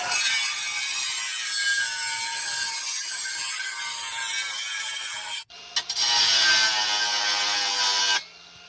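A diamond blade saw grinding a curved circular cut into bathroom tile, a loud steady high whine with a brief pause midway before a harsher cutting burst, then stopping.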